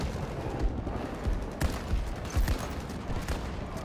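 Shotgun fire in Battlefield 2042 mixes with a dense battlefield of repeated gunshots and booms, loud and close, the blasts landing irregularly over continuous combat noise.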